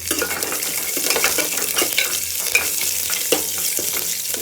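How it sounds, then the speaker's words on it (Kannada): Garlic and a dried red chilli, then curry leaves, frying in hot oil for rasam, a steady bright sizzle with occasional spoon scrapes and light clinks against the pan, no voices. "ಬೆಳ್ಳುಳ್ಳಿ ಮತ್ತು ಒಂದು ಒಣಮೆಣಸಿನ್ಕಾಯಿ ಹಾಕ್ಕೊಂಡು ಇದು ಫ್ರೈ ಆಯಿತು"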